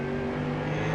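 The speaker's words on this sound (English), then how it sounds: "And listen to that smooth application of throttle as they get ready to go in." A race car engine under smooth, steady throttle on the Oschersleben circuit, heard from onboard as a continuous loud, even drone with no talk over it.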